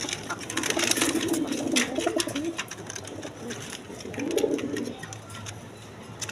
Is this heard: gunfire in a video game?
no